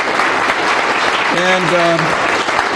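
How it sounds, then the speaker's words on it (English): A loud, steady round of applause from an audience at a public forum on water and climate change, continuous clapping with a brief voice and tonal sound partway through. "So could we just give everybody a round of applause?"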